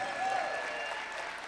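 A conference audience claps together, a dense, moderately loud burst of applause filling the short moment without any voice over it.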